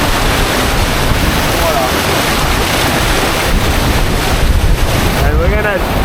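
A sheer torrent of rushing water in an icy landscape, a loud constant roar heavily buffeted by wind on the microphone, with a brief spoken word and a faint voice near the end.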